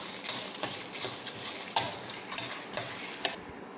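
Dried red chillies sizzle and fry in a hot pan while being stirred, a steady crackling hiss with rhythmic scraping strokes every half second, close and alone without talk.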